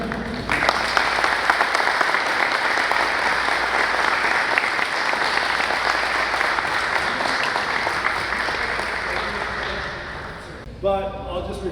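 Sustained audience applause fills a hall at an author event at the Atlanta Ethiopian Community Center, dense and steady for about ten seconds before fading into a few scattered claps.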